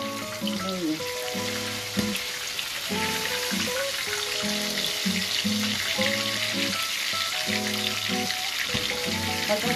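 Torrijas fry steadily in a pan with hot oil, a dense continuous sizzle with a faint bubbling tonal hum running beneath it, close and even for the whole stretch.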